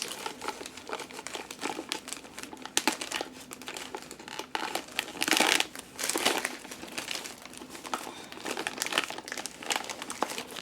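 A black plastic bag crinkles and rustles continuously as it is handled during home crafting, with dense, close crackling bursts and a few sharper crunches and no talking.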